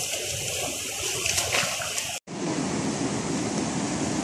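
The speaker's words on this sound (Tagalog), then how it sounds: "Ang lakas-lakas ng alon guys." Loud, continuous roar of heavy surf crashing close by, broken once by a brief cut before the rush of waves resumes.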